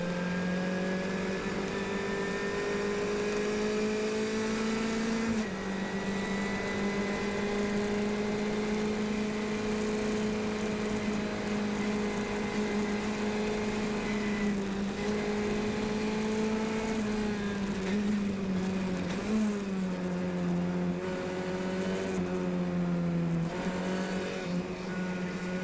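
Formula 1600 open-wheel race car running on the Mont Tremblant circuit with an upgraded engine, a continuous close onboard drone that holds steady, then dips and rises as the throttle eases and reapplies out of a corner.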